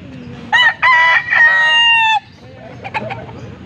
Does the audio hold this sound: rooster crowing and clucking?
yes